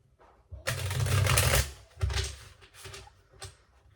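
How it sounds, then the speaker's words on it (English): Tarot cards riffled and shuffled in short bursts, one long rustling flurry followed by a couple of briefer ones, close up and fairly quiet. "So we're going to go ahead and start shuffling."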